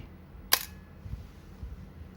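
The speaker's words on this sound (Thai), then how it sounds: "ชัตเตอร์บี ขึ้นฟิล์ม กดถ่ายชัตเตอร์บี" A Nikomat EL film camera shutter fires once on bulb setting, a single sharp mechanical clack up close, followed by quiet room noise.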